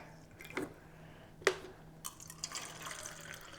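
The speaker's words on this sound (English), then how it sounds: "all I'm going to do is just put a little bit of water" Water is poured into a glass, a faint, brief liquid splash and trickle with a couple of small clinks and drips in an otherwise quiet room.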